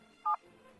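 A single short two-tone telephone keypad beep sounds once, clear against near silence.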